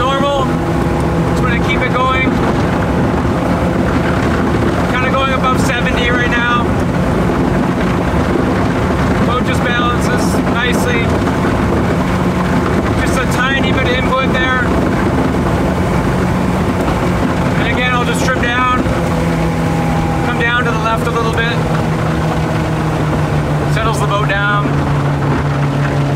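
Allison Grand Sport boat powered by a Mercury 150 four-stroke outboard running at high speed: a constant, loud engine roar with wind buffeting and the rush of the hull over water, while a voice talks over it at intervals.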